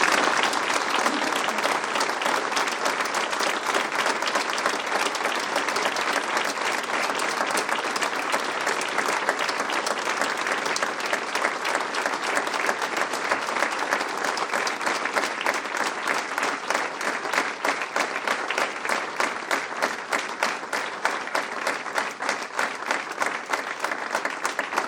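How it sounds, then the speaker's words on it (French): Prolonged audience applause in tribute to a man named Pierre during a New Year's greetings ceremony held by a community council president, a large crowd clapping steadily and evenly for nearly half a minute without letting up. "je souhaite que nous rendions un hommage appuyé à Pierre en faisant retentir nos applaudissements."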